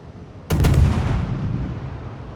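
A single heavy naval gun blast from a warship video game erupts suddenly after a brief quiet, a loud booming report with a rumbling tail that fades over about two seconds.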